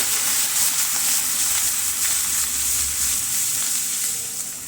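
Crushed garlic and ginger frying in oil in a pan, a close, steady sizzle and hiss that holds evenly, with no voices.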